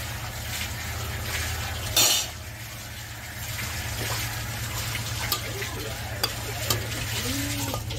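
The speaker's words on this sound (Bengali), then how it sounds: "এখন আমি পেঁপেগুলো দিয়ে দেবো" Frying in a pan with bay leaves, a continuous sizzle with a burst of louder crackling near the start and scattered clicks of stirring afterward.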